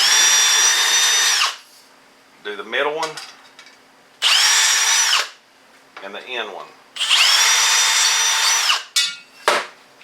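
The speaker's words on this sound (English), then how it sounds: "I'm going to go ahead and drill this hole out." A power drill with a 3/16-inch bit whirs in three bursts, drilling holes to install a back window on a Rural King Performance 550 UTV, steady and loud, with a voice speaking briefly in the gaps.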